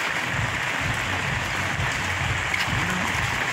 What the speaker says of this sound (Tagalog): Kahit malalakas yung ano, ulan, no?